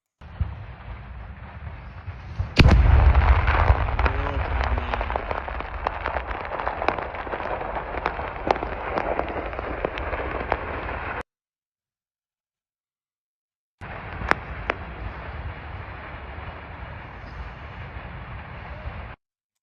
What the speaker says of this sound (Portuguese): Dá para ver e dá para ouvir também as explosões secundárias ali em Novocherkassk, né?